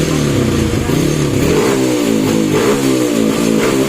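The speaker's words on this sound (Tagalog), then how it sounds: "Yeah, pwede na ulit pasabugin yung motor ni Chano Works." A motorcycle engine revs hard close by, rising and falling in pitch with a clattering mechanical edge, loud and alone without talk.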